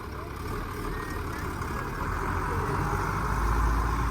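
A Magirus Deutz truck's six-cylinder engine, with its injection pump mounted outside the block, idles in a steady low rumble with a broad even hiss, close by and unchanging throughout.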